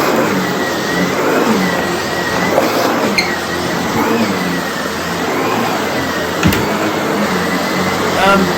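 Sebo D4 ePower vacuum cleaner running steadily on a rug at its number 2 setting, a continuous close motor whine with brush hum that stays even throughout, with a couple of brief bumps as it moves.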